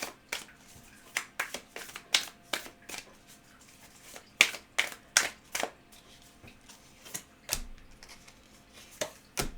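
Tarot cards are shuffled in quick irregular riffles and taps, crisp and close, with short flurries and brief pauses, and no voices.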